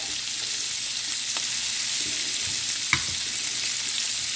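Shrimp for scampi frying in a pan, a steady close sizzle with a few faint clicks and stirring touches, no voices.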